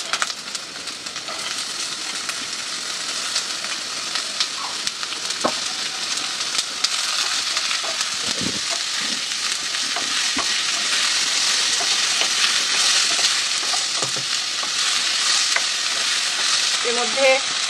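Onions and chopped potatoes fry in a pan, giving a steady, loud, close sizzle that runs the whole time with occasional stirring scrapes and clinks.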